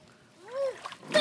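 A child leaps into a backyard pool, ending in one short bright splash after a rising voice squeal; other voices around.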